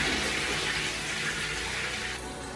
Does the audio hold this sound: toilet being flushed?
yes